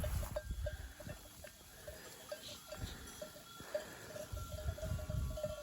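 Faint outdoor ambience of a flock of sheep grazing on green grass in the Nurhak mountains, with scattered light bell clinks ringing at irregular intervals and soft rustling, distant and quiet.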